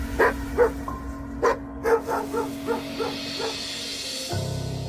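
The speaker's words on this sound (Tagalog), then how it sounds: "Lalong lumakas ang pagtahol at pag-angil ng alaga kong aso habang nakatingin sa sagingan" A pet dog barks in a run of sharp, close yips that gradually soften into whimpering calls, followed by a low rumbling growl near the end, with no voices.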